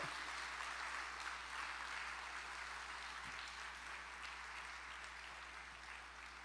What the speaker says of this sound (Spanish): Démosle un aplauso a ese Jesucristo hermoso, poderoso.